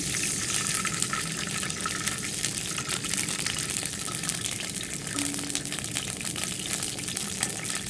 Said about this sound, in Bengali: এখন পানি দিয়ে দিন